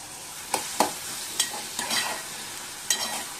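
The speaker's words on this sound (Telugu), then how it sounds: "ఆయిల్ హీట్ ఎక్కిన తర్వాత ఆనియన్స్ వేసేసుకోవాలి" Sliced onions and three thinly cut green chillies sizzle in hot oil for a mushroom curry, while a spoon scrapes and stirs the pan in several distinct strokes over a steady fry.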